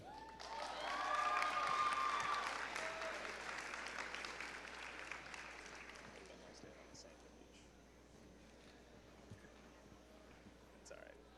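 An awards assembly audience applauds scholarship recipients at a high school honors ceremony, a dense wash of many hands clapping that swells in the first seconds, then gradually thins and fades to sparse claps and quiet room noise.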